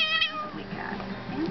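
A fat tabby cat gives a short, clear meow, close and fairly quiet, followed by faint vocal noise as people speak softly nearby.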